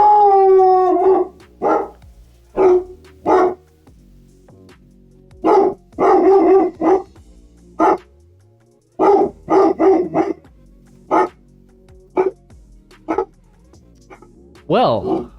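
A dog guarding a house barks and howls at a stranger at the door, loud and close, in repeated bursts of sharp barks and drawn-out howls separated by short pauses.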